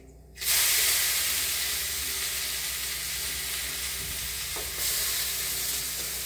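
Grated radish, poured in with all its water, hits hot tempering oil in a pan and erupts into a loud, steady sizzle that starts abruptly and keeps hissing throughout.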